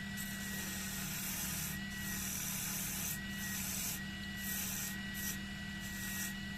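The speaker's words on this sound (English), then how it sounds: "Just take all the facets out left by the bevel of the gouge" Gouge smoothing the facets off a spinning wooden workpiece on a woodturning lathe, giving a steady rubbing, scraping hiss over the lathe's constant hum, with short pauses between passes.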